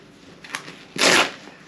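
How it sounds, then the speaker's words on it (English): Velcro strap on the bottom of adventure riding pants pressed and ripped closed, a short tearing burst followed by a louder, longer rasping fasten, close and alone. "and you just Velcro it up"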